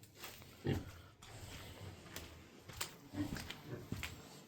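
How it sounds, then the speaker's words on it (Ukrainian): Large White and Landrace crossbred pigs in a pen give scattered short grunts and snorts, several separate quiet bursts over a low background, with no talk. "Це у нас на заміну дві свинки."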